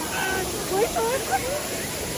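Steady broadband rush of Mok Fa waterfall in Mae Taeng, Chiang Mai, heard as continuous falling water with faint voices briefly rising above it.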